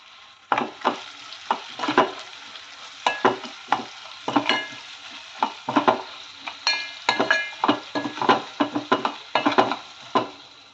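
Spinach being stir-fried in a pan with turmeric, a spoon scraping and tossing it in a steady run of sharp clicks and scrapes over a soft, continuous sizzle, close and fairly loud with no talking.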